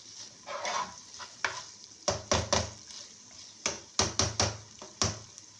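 Carrots and potatoes sauté in a pan for a chicken and pea dish, a soft sizzle running underneath while a spoon stirs and scrapes in close, repeated bursts of clatter.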